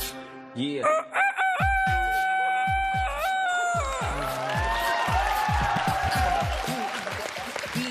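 A man imitates a young rooster crowing in a long, rising, strained call at a lively gathering, and the crowd follows with clapping and laughter.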